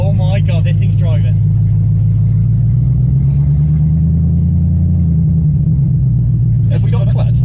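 A BMW E36 driving for the first time in years, its low engine rumble steady and close throughout while excited voices talk over it at the start and end.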